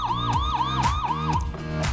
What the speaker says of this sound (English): on top, there's a siren with lights and sounds.